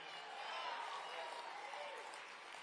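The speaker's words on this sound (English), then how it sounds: "How about another round of applause for Brandon Tatum?" Audience applause at a Republican Jewish Coalition leadership summit for Brandon Tatum, a steady, moderately distant wash of clapping across the whole stretch, with voices mixed in.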